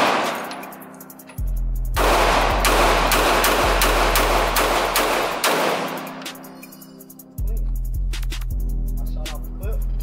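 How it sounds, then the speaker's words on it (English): Loud, rapid bursts of Glock pistol fire at an indoor gun range, with dense strings of shots and sharp reports, then a pause, then another volley of several close shots. "You gonna shoot the Glock?"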